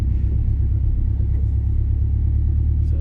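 A 2005 Subaru STI driving along, a steady deep engine rumble under road noise, heard from inside the car, loud and continuous with no talking.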